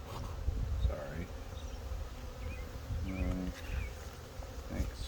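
Honey bees buzz around an open hive during a full beehive inspection, a steady close hum with individual bees droning past, punctuated by faint handling sounds and a brief low voice.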